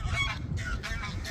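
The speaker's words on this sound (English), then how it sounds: "Shut up, geese." Geese honk repeatedly at a lakeside fishing spot, a run of nasal calls sounding close and fairly loud over steady low wind rumble.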